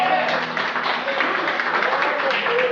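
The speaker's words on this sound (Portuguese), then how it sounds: "as palmas que louvam ao Senhor" A church congregation claps in praise, a steady wash of many hands clapping continuously with voices mixed in.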